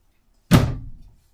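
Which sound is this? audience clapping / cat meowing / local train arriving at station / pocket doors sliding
pocket doors sliding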